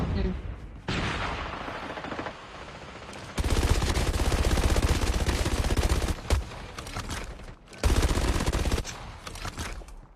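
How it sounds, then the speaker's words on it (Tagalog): Bursts of rapid video game gunfire, loud and dense, with short pauses between volleys and some voices mixed in. "Putok dyan, Mi."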